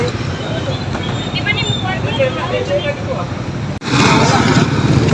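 Road traffic rolls past near a parking lot behind a Gaisano store, a steady loud wash of engines and tyres with a voice talking over it, briefly cut by a short gap before the roar resumes.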